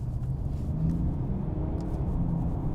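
Mercedes-Benz E400d diesel E-Class from 2018 accelerating, a steady, deep engine rumble heard from inside the car, moderately loud and continuous with no voices.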